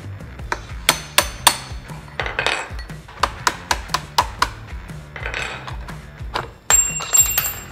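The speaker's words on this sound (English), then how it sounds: "Now tapping out the pedal rod." Metal tapping on a Kingsong 18XL electric unicycle's pedal rod: a series of sharp, close clinking hammer strikes in irregular bursts, with a short high ringing ping near the end.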